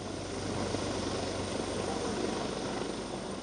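Helicopter sweeping over a cold lake during a search, a steady, dense rotor and engine drone with a rapid low chop, constant in level and heard alone.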